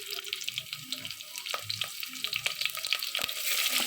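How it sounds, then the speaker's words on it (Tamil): Spices spluttering in hot oil in a pan for coconut milk rice, a busy crackling sizzle with scattered sharp pops and some stirring. "இதெல்லாம் நல்லா பொரிஞ்சு வர வரைக்கும் விட்டுடலாம்."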